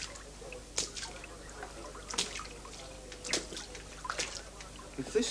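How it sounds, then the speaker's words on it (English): Water drips from a household leak, a few separate drops spaced irregularly over a quiet room background, fairly close and moderately loud. "Have you got a leak or something?"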